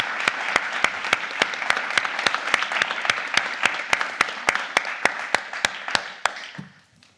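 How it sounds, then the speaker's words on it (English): An audience applauds the panelists in a steady clapping ovation with a regular rhythmic pulse, fading away over the last second. "let's give our 4 panelists a round of applause"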